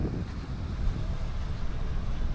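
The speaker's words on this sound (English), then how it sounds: "We do have quite a bit of wind today" Strong wind gusting across a wide beach, a steady low roar buffeting the microphone, with faint surf from the nearby water beneath it.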